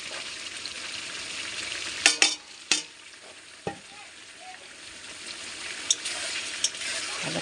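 Sizzling spinach in a pan with fried paneer stirred in: a soft, steady frying hiss broken by several sharp clinks and scrapes of a spoon against the pan, fairly quiet and close.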